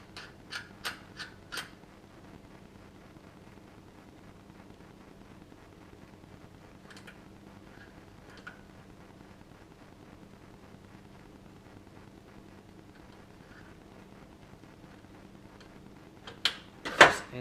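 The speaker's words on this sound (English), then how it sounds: "Operate the bolts fully once." Metal bolts on a safe lock worked back and forth, a few sharp mechanical clacks at the start, then quiet faint shuffling, and two more loud clunks at the end.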